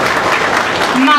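Applause from an audience at a charity concert, honouring a girl on stage; a brief, dense, steady wash of clapping filling the hall.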